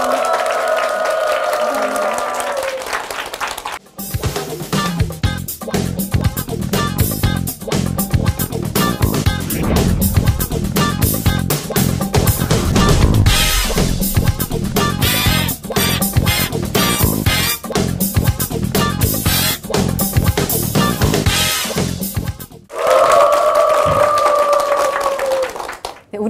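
Applause for an editor-in-chief at an architecture fair in Jeju, a loud sustained burst of clapping from a crowd, bracketed by brief tonal music or voice at the start and end.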